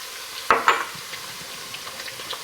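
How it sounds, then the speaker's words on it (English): A spoon stirs garlic in a hot pan: two sharp scraping clinks against the metal over a soft, steady sizzle that carries on quietly afterward, close by and with no talking. "Give that a quick stir"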